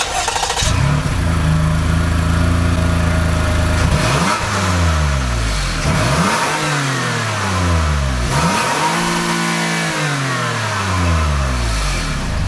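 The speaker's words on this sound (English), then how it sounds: "And now we'll have a listen to the exhaust." A Toyota Highlander engine idles, then revs repeatedly, each burst rising sharply in pitch and falling back, its exhaust loud and close.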